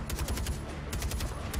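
Rapid gunfire in Far Cry 4, a steady close burst of automatic shots, loud and continuous, with a short dip partway through before the firing picks up again.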